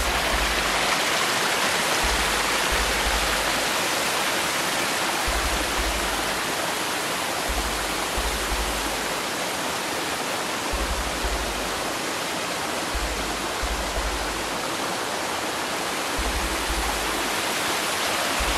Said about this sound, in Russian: вот это монахов водопад